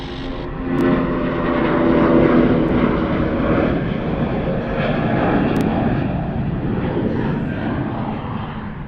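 An airliner lands at Sydney Airport, a broad, rumbling engine roar that swells and then holds steady at a moderate distance for several seconds.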